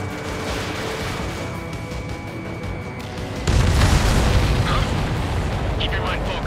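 An enemy transport explodes in the video game Ace Combat 7, a sudden deep boom cutting in over steady jet engine roar and rumbling on loudly afterward.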